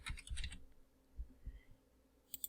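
Keys typed on a computer keyboard, a short burst of soft clicks close by, a few scattered taps, then a final quick pair of clicks in a quiet room.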